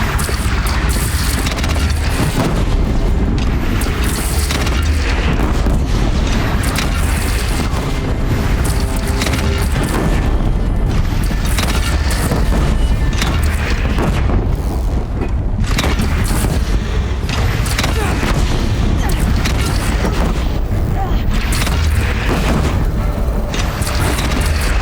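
Loud, continuous combat soundscape in Horizon Zero Dawn, with heavy booming blasts from a bandit clan's single cannon repeating throughout amid dense crashing and splintering battle noise, with no talk.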